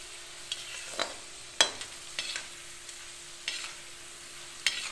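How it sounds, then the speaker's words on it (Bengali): Dal frying gently on a low simmer for homemade dalmut, stirred with scattered scraping strokes over a faint steady sizzle, fairly quiet and close with no voices. "ঠিক এইভাবে নেড়ে নেড়ে এটাকে আস্তে আস্তে গ্যাসটাকে সিম করে দিয়ে ভেজে"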